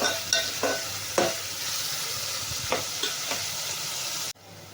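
Onions fry with asafoetida in hot oil with a bright, steady sizzle, punctuated by several sharp spatula scrapes and taps before stopping abruptly.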